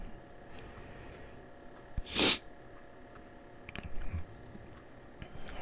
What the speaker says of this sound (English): that's probably why I've been sneezing and sniffling the last few days